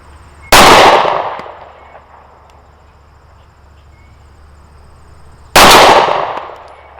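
A Bersa BP9cc 9mm pistol fires two loud, sharp shots at an outdoor range, about five seconds apart, each followed by a decaying echo and otherwise quiet surroundings.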